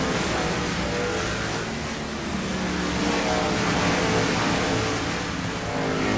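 NASCAR race cars roar together at Road America in the iRacing game, a dense, continuous engine drone from a pack of cars with gentle swells in pitch and no voices.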